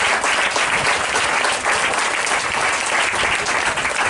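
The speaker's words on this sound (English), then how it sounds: "So give them a round of applause." Dense, steady applause from an audience for a school team at a picnic, loud and continuous throughout with no gaps.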